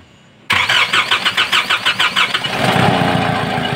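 A Nissan Patrol engine with no compression cranks in a rapid rhythmic series of loud, close pulses, then catches and settles into a steady rough idle.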